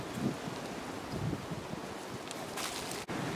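Wind blows steadily outdoors in a garden where soil is being sifted, a constant rushing wash with faint rustling throughout and no speech.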